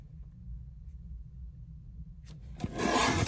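Craft paper is trimmed on a paper cutter. A faint low rumble gives way near the end to a brief, brighter scraping slide as the blade cuts through.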